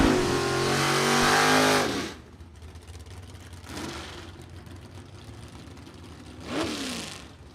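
Vintage drag race cars at a Glory Days event, with 413 wedge and 427 FE engines mentioned, roar loudly at launch and accelerate away over the first two seconds, then fainter engine passes rise and fall.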